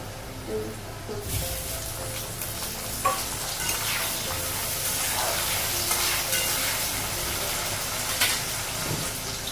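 Onion fries in oil in a home kitchen pan with bay leaf, ginger and garlic, with tomato about to go in: a steady close sizzle that turns louder and hissier after the first second, with stirring scrapes and no talk.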